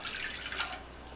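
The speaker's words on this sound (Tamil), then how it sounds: "ஒரு கடாயில் 2 கப் தண்ணி சேர்த்துடலாம்." Water, two cups, pours briefly into a kadai for egg Maggi noodles: a soft, close trickling hiss with a small splash midway, short and fairly quiet.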